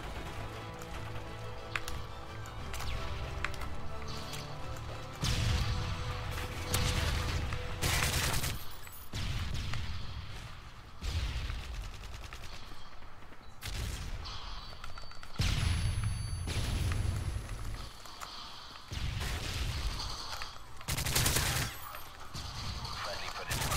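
Gunfire in a first-person shooter video game: repeated bursts of rapid shots and single loud cracks recurring throughout, with game effects and a voice talking intermittently.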